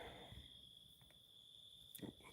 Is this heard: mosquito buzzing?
yes